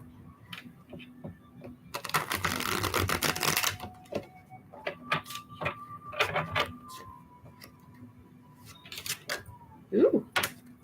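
Tarot cards are shuffled for a live reading: a rapid papery riffle burst lasting a couple of seconds, followed by scattered soft taps and card flicks, with quiet hums and a faint voice nearby.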